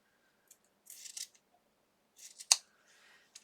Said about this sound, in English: So I'm just going to cut this along the line here of the seam.